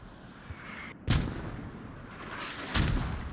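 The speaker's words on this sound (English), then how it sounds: "Where are those mortars landing?" Mortar shells landing in the video game Squad, two distant, muffled booms roughly two seconds apart, each a dull thud with a rolling tail, heard over low background ambience.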